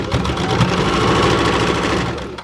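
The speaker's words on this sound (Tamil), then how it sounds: "இப்போ இது தையல் எங்கெங்கே இருக்கோ அங்கெல்லாம் ஒரு தையல் போட்டுக்கோங்க" A sewing machine runs a seam along an inskirt, producing a loud, close, continuous rapid whir of stitching for the whole stretch, with no voices.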